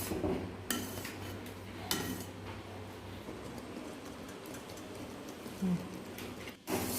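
A spoon scrapes and clinks against a pan while country sugar syrup for sesame balls is stirred, giving intermittent metallic knocks over a low, quiet simmer with no talking.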